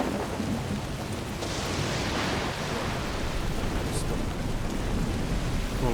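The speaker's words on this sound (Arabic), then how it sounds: "والله مرة العاصفة بزيادة" A heavy storm in Death Stranding, with dense, steady rain roaring throughout and a deep thunder rumble building beneath it, loud and continuous with no voices.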